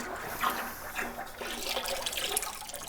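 Liquid poured from a scoop into a bowl gives a steady, splashy trickle with small drips, close by and fairly quiet, with no talking over it.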